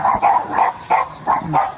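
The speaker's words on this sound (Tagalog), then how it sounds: "Mukhang marami po kayong aso." Several dogs barking at a family home in the Philippines, loud close barks and yips in an uneven rhythm with brief pauses, with no talking over them.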